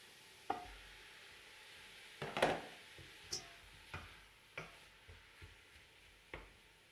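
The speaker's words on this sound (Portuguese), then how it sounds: "O bacalhau está assim bem refogado" Shredded salt cod sautéing in a pan for a Portuguese bacalhau dish, with a quiet background sizzle and a series of distinct spoon scrapes and clacks against the pan as it is stirred.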